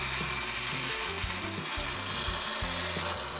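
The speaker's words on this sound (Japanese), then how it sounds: "ここで登場したのが作られてから一度も使用されなかったランニングマシンベルトサンダーですね。" A homemade belt sander built from a treadmill, used for the first time, grinds steadily at close range with a continuous rough, rasping roar and wavering low motor tones, alone without talk.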